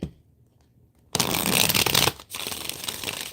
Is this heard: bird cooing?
no